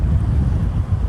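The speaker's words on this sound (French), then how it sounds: "j'attends que ça souffle un peu moins quand même pour continuer, parce que si tu m'entends pas, ça va pas le faire. Tu te calmes le vent." Strong wind buffeting a microphone outdoors, a steady low roaring rumble that fills the whole moment with no voices.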